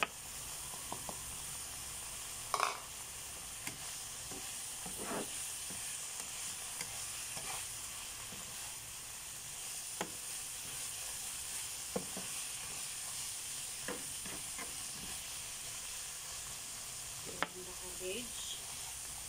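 Carrots and cabbage stir-fry in a pan for pancit, giving a steady close hiss of frying broken by occasional sharp scrapes and taps of a utensil on the pan.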